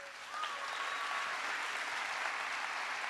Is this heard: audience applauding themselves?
yes